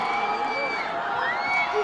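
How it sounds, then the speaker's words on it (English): A high school football crowd cheering in the stands at a Spartans versus Longmeadow final, a steady distant roar with whoops rising over it. "Esau Meadow crowd still fired up"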